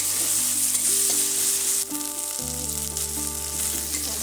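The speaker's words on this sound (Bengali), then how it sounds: "টমেটোগুলো একটুখানি ভাজা হোক।" Tomatoes fry with spices, bay leaf and onion in a pan, giving a steady close sizzle, with a low background hum shifting partway through; no talking.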